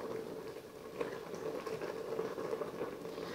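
Homemade tangerine jam simmers in a pan, a steady soft bubbling and popping with faint patter, quiet and continuous with no talking.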